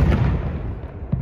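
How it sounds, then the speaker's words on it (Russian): A mortar fires a shot outdoors, a loud, heavy low-frequency boom that rumbles on steadily throughout the short moment. "Выстрел!"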